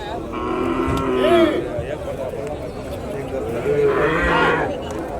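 Cattle mooing at the Matrapalli cattle market, two long, loud lowing calls in the foreground, one near the start and another near the end, over steady crowd chatter and market din.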